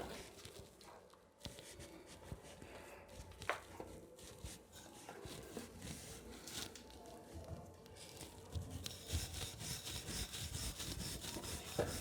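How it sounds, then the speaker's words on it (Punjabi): A rolling pin works paratha dough on a board, giving a steady, close rubbing and rolling sound with soft knocks throughout, no talking. "ਹੁਣ ਅਸੀਂ ਵੇਲਾਂਗੇ।"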